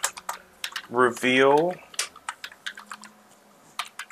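Rapid, uneven computer keyboard clacks in Roblox Jailbreak, close and crisp, scattered across the whole stretch with short pauses, while a voice speaks briefly near the start.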